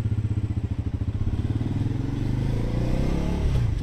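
A Bajaj Pulsar NS400Z motorcycle engine pulses with rapid, loud throbs, then rises and smooths out as it revs up and pulls away.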